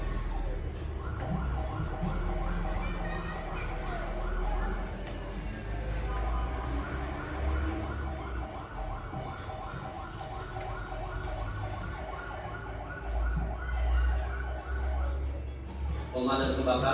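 A fire engine siren wails continuously for the whole stretch, loud and fairly near, with a low rumble beneath the repeating tone.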